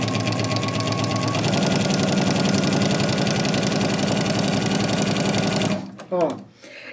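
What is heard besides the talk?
sewing machine with walking foot stitching fabric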